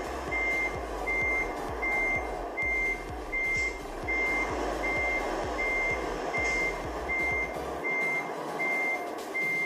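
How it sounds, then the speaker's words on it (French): A truck in American Truck Simulator backs up with a regular, evenly timed reversing alarm beeping throughout, over a pulsing diesel engine rumble that cuts out near the end. "Vous avez vu, vous entendez le putain de bruit du camion?"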